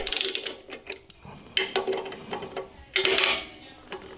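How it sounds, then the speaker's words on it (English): A 10mm socket ratchet backs off mounting nuts on a Homelite LRX5600 11.5HP generator, with rapid close clicking bursts and metallic rattles in uneven spurts. "Use a 10mm socket to remove the two mounting nuts."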